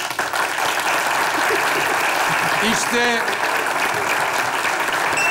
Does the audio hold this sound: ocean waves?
no